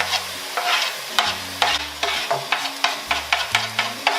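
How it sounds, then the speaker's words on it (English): Pork hits caramelized sugar in a pot for Vietnamese braised pork and sizzles loudly, while a utensil scrapes and stirs in repeated sharp strokes roughly twice a second, close up with no voices. "we're going to caramelize a bit of sugar, and then toss the pork in it with the garlic and onions"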